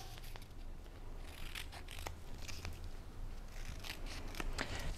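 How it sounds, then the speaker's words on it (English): Scissors snipping the corners off kinesiology tape, several quiet crisp cuts spaced out over a soft background, close by and with no voices. "Remember to cut the corners off the tape just to get it to stick a little bit better."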